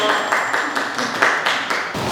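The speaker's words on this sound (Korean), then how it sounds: "네, 큰 박수 부탁드리겠습니다." A small group claps in a fairly steady rhythm, the applause continuous and moderately loud for a couple of seconds.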